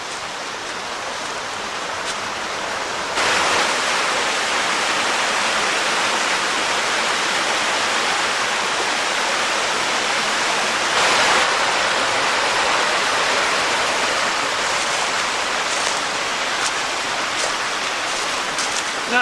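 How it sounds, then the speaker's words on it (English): Black Springs Falls cascades step after step, giving a steady broadband rush of falling water close by that swells louder partway through and stays constant, with no voices. "they just continue up as far as I can see. Just cascade after cascade."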